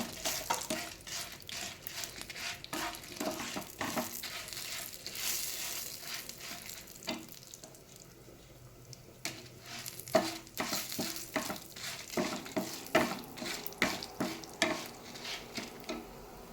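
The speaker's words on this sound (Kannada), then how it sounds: "ಇದು ಕೆಂಪಗಾಗುವಾಗ ಕಡಲೆಬೇಳೆ ಮತ್ತು ಮೆಣಸನ್ನು ಹಾಕಿ." Chana dal and chillies frying in oil alongside urad dal, a low crackling sizzle broken by frequent sharp metal stirring scrapes and clinks against the pan.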